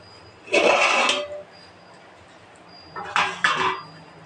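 Lid lifted off a pot of chicken biryani: two loud, close metallic clatters, one early and a double clank near the end, separated by quiet.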